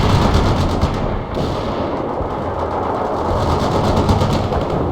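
Gunfire in the combat game World in Conflict: sustained rattling bursts and booms blend into a loud, continuous battle din with no pauses.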